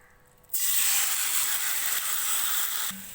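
Marinated chicken dropped into hot oil in a pan, setting off a sudden loud, steady sizzle that holds for a few seconds before cutting off.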